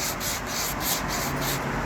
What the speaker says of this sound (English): I'm just going to finish sanding this